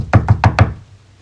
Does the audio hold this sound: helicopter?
no